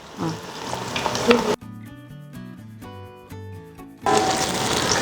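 Shallots dropped into hot oil with cinnamon and cloves for a Coimbatore-style mutton biryani, a loud close sizzle and stirring that breaks off for a moment, then returns strongly.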